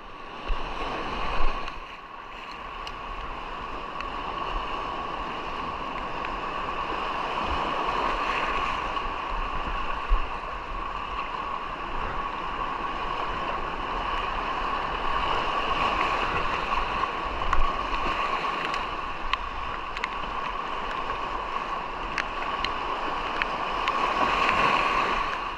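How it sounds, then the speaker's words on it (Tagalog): Big sea waves surge and wash steadily off San Vicente, a continuous loud roar of water mixed with wind, with a boat's motion and splashing audible throughout. "Grabe na laking alon."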